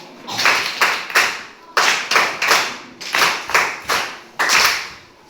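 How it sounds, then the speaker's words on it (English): Applause from a classroom of students cheering a classmate, several short bursts of clapping with brief gaps between them, loud and close with no talking. "Applaud for our friend here, Caleb."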